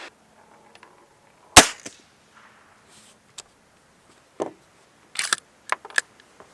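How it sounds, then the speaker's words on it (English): Magazine dropping out of a UK-spec Schmeisser SP-9 AR-15 rifle after the right-side release is pressed: a sharp metallic click and clack, followed by several lighter scattered clicks and rattles of handling nearby. "let's just take the magazine out for the second"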